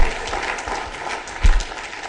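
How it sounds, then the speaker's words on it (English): Brief applause from a law school computing conference plenary audience, a moderate patter of clapping over a couple of seconds with one louder thump partway through. "thank you for that applause"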